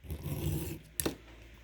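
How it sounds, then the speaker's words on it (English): A steel file rasps against a gun sight while it is fitted during an XS Big Dot install on a Kahr LC9s, giving a short burst of scraping strokes followed by a sharp metallic scrape, close and alone. "So we're going to keep filing."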